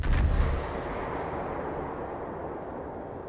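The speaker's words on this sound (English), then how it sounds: "They're shelling my position." Heavy artillery shelling in a video game war zone: a loud, deep impact blast at the start, followed by a long, rumbling roll of the explosion that slowly decays and lingers.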